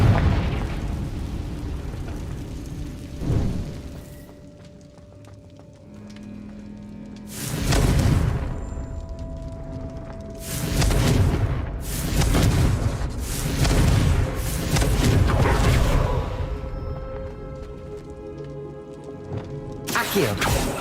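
Confringo fire spells go off in Hogwarts Legacy as a series of booming blasts, several in quick succession around the middle and one more near the end, over a bed of game ambience.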